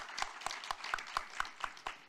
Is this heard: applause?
yes